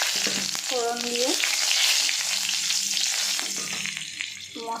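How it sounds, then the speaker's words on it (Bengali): Fennel seeds, bay leaf and green chillies sizzling in hot oil in a pan, a loud continuous crackling fry with scraping stirs and a brief tonal squeal of utensil on metal. "তেল গরম হয়ে এসছে। এরপর মৌরি, তেজপাতা, কাঁচা লঙ্কা"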